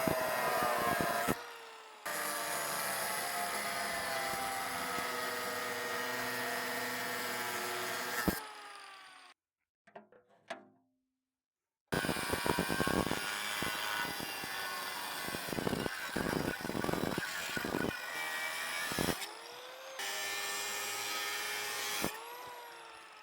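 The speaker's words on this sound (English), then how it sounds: "So I think if I just cut like a V shape with the grinder," Angle grinder cutting a V shape into stainless steel screws on a large aluminum shop light, a loud sustained whine in long bursts with a brief quiet gap and pauses between cuts.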